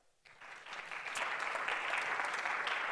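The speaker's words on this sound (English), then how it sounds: "A round of applause for her." Audience applause for a panelist at a solar photovoltaic gender-perspective conference session, starting abruptly after a short quiet moment and swelling into steady, sustained clapping from a room full of people.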